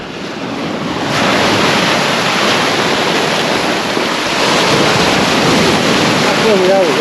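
Steady roar of sea waves breaking in a low cliff cove on the Holderness coast at Tunstall, with wind buffeting the microphone throughout, loud and continuous.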